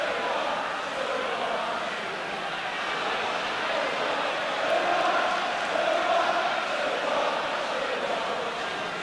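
Arsenal supporters chant in the stadium during a 1988 league match against Tottenham Hotspur, a broad, distant roar of massed voices swelling steadily throughout.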